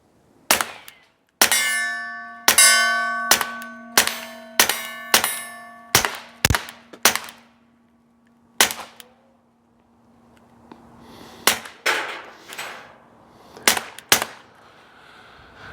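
A rimfire pistol fires a full magazine of about a dozen rounds, loud sharp close shots in a steady then uneven rhythm with ringing metallic clangs, a pause mid-string, then several more shots.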